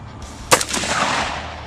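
A single sharp gunshot from an AR-15 rifle cracks out near and loud, followed by a decaying echo and ringing tail.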